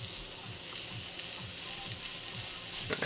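Chicken sizzles on a George Foreman electric grill in an off-grid van, a steady soft crackle of frying fat with small pops, fairly quiet and close, with no talking.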